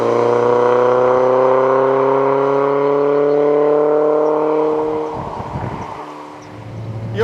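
A Mazda MX5 Mk3 with the BBR Super 200 conversion revs hard, its engine note climbing steadily and loudly, then dropping away briefly before the revs return near the end.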